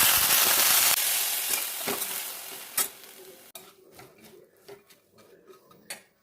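Moth beans dropped into hot oil with a pinch of asafoetida for a quick salted breakfast: a loud opening sizzle fades into scattered stirring scrapes and light pan clinks, close by.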